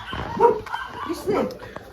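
A dog gives short yipping barks under and between voices, with two main bursts close by.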